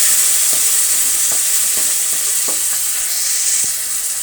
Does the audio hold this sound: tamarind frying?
yes